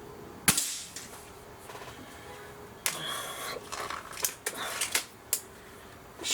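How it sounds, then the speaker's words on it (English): A Gamo Swarm Magnum Gen3i .25 caliber air rifle fires a single sharp, close shot, followed by fainter clicks and mechanical handling noises. "All right, shot number 1."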